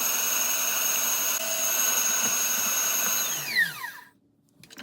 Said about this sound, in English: Continue whipping until well combined and fluffy.